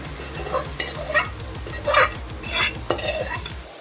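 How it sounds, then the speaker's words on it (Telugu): Marinated chicken pieces fry in a pan while being stirred. Repeated close scrapes and clinks of a utensil sound over a steady sizzle, and a low rhythmic hum runs underneath. "వేసి బాగా ఫ్రై చేసుకుందాం"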